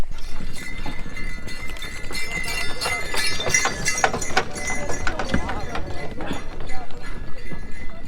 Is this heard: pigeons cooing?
no